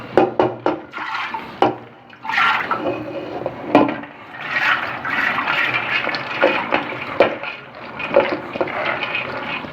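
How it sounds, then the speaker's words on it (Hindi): Soaked lentils are poured into leftover meat-boiling water in a cooking pot, producing splashy watery pours and swishing in several bursts, close and fairly loud with no talk. "उसी के अंदर हम ये दाल डाल रहे हैं।"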